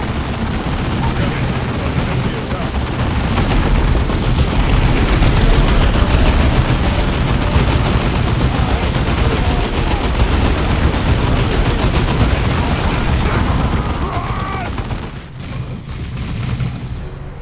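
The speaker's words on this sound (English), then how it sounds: "The suppressive fire from my heavy bolter will keep the greenskins pinned." Sustained heavy bolter suppressive fire from Devastator marines in Warhammer 40K Dawn of War II, a dense continuous roar of rapid shots and booms that holds steady for most of the stretch before briefly dipping near the end.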